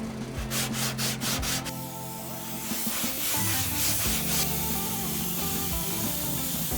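Steady scraping rasp of a sanding block worked back and forth across a car's fender flare, close and continuous, with a few faint rhythmic strokes at the start.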